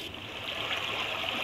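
Steady trickling water hiss from a Hatch Rest Go baby sound machine on its creek setting, a continuous close, even wash of running-stream noise with no talking.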